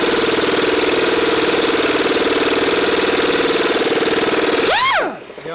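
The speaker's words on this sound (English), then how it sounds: "I'm going to use the impact to break them." An impact wrench hammers on stuck engine bolts of a 1989 Marmon truck in one long, loud, continuous rattling burst that winds down and stops near the end.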